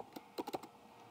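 About five quick keystrokes on a computer keyboard during data entry into a form, a single tap followed by a short close burst, quiet and isolated with no voices.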